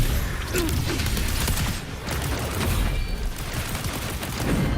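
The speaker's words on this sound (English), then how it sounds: "Another mortar thrown at us." Mortar blasts and battle noise in the video game Wuthering Waves, a dense, continuous roar of explosions and mechanical clatter with heavy low rumble throughout, dipping briefly before swelling again.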